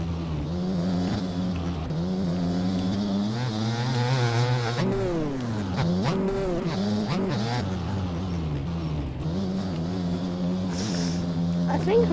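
A GasGas MC 250 two-stroke motocross bike in the MX Bikes racing game, revving loudly and continuously with rising and falling engine pitch as it rides a motocross track, and a voice talks over the engine throughout.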